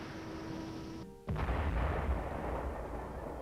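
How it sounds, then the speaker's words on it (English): Simulated battlefield shell bursts and explosive charges set off during combat training, heard as a sudden loud blast that opens into sustained rumbling, crackling roar with no talk. "smoke, and shell bursts fill the air."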